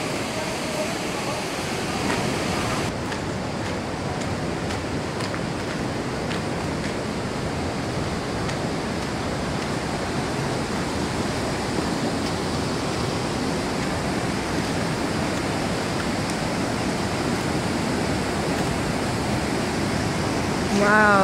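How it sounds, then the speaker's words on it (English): A loud, steady roar of the Coquihalla River rushing through a gorge near Hope, British Columbia, fills the whole stretch, constant and broadband like a river churning through a narrow channel. "Wow, there's the gorge with the running water."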